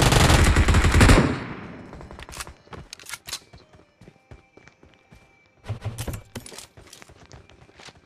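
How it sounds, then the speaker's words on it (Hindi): Machine gun fire in the PUBG Mobile video game: a loud, dense burst for about a second, then scattered sharp shots and short bursts at varying distances, with a second flurry of rapid rounds later on. "और किसको मिल गई ये मशीन गन भाई साहब?"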